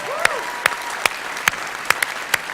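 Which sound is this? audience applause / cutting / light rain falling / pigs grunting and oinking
audience applause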